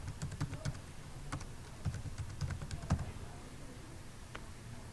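Fingers typing login details on a computer keyboard, a quick irregular run of close, light key clicks in short bursts, then a lone tap near the end, quiet and alone.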